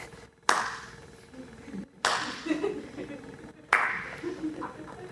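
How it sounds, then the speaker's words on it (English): A villainous slow clap from off to one side: three single, deliberate claps spaced well over a second apart, each ringing briefly, with a faint murmur of voices underneath. "So we just hear the slow clap of villainry."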